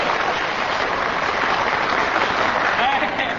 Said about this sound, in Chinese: 爱听， 爱听，鼓掌。